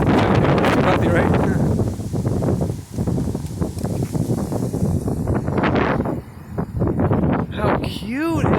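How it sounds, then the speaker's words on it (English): Strong wind at a beach buffets the microphone in loud, gusty rumbles throughout, with intermittent fluttering and rustling, while a person talks over it and a bird chirps near the end. "It's really windy at the beach today."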